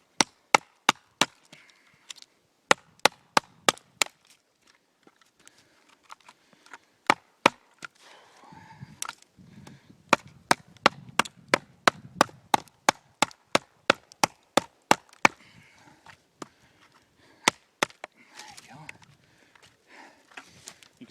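A Becker BK2 knife chops into pine wood in sharp, close, loud blows, bursts of quick repeated strikes separated by pauses, with someone speaking between some of the chops.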